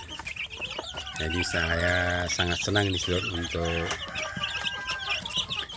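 A native village hen clucks and chirps with her chicks in a rearing box, close and fairly loud bursts of clucking while someone talks alongside.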